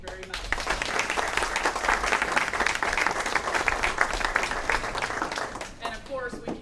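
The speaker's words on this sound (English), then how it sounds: "These people deserve our enormous round of applause" Audience at a fundraiser for CASA of Hunt County breaks into a strong round of applause, dense clapping throughout with voices talking over it and tapering toward the end.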